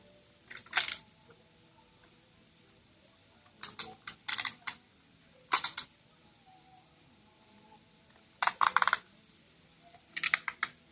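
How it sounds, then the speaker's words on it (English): Ratcheting from very strong ratchets on a figure's arms as they are moved out, heard as several short bursts of crisp, rapid clicks separated by quiet pauses, close and fairly loud, with no talking. "you probably hear the ratcheting on them. They do have very strong ratchets"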